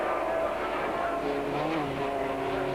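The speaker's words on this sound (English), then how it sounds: "the distinctive sound of this V8, which revs slightly higher than the Rover unit" A 1995 TVR Tuscan Challenge V8 race car engine roars continuously at close range, revving high with a slightly metallic edge and rising, shifting engine tones.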